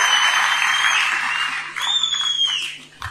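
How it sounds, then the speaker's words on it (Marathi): A political audience at the Nationalist Congress Party's 25th foundation day event in Maharashtra applauds the state party president, with dense, steady clapping that fades slightly and then swells again near the end. "एकदा आपण जोरदार टाळ्या वाजवून त्यांचं मनापासून अभिनंदन आणि कौतुक करूया"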